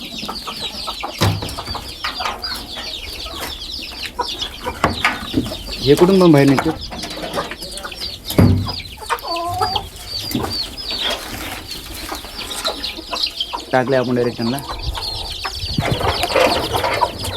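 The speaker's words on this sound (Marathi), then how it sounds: "ही कडकनाथ कोंबडी आपली" Kadaknath chickens clucking and squawking close by on a farm, repeated bursts over a steady coop background, with a person talking intermittently and occasional wing flaps.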